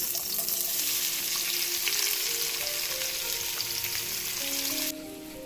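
Chopped onions fry in about two tablespoons of oil over medium heat, giving a loud, continuous close sizzle that drops suddenly quieter near the end, with no one talking.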